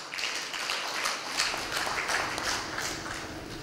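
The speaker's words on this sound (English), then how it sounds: "Let's welcome him with a round of applause." Audience applause at a Uganda–Tanzania investment forum, a dense, sustained round of clapping from a large hall crowd, even in loudness throughout with no talk over it.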